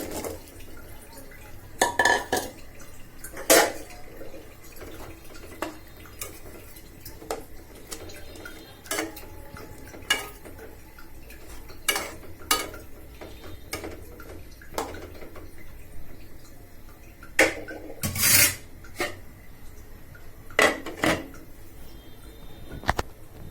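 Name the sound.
carrots added to spiced fish curry and stirred in pan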